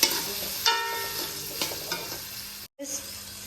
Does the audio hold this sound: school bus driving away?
no